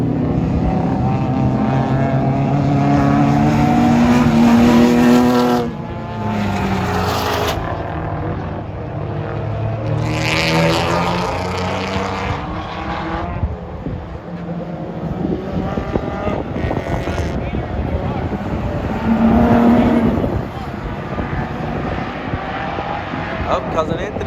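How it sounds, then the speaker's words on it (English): A race car engine roars on a rain-soaked track, revving up and down through gear changes. Excited voices talk over the engine throughout. "The car's still going."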